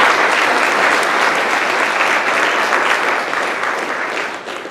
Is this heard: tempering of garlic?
no